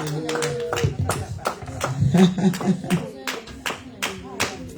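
A congregation at a church service claps in quick, irregular bursts, close and lively, with voices calling out and singing over the clapping.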